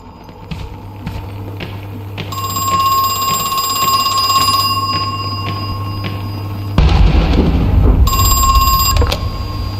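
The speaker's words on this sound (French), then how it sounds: "un téléphone s'est mis à sonner." A telephone rings inside a mansion in a horror video game set in an amusement park, its bright repeated bell tones loud and close over a low droning ambience, then breaking off into a louder rumbling noise before ringing resumes.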